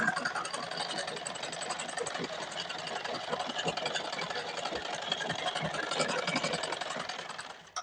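A sewing machine stitches a double seam on a pajama, its needle running in a rapid, steady mechanical whir close by for several seconds before stopping.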